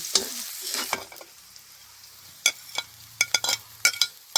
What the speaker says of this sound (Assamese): নিমখ হালধি দি অকণমান পিঁয়াজখিনি ভাজিম।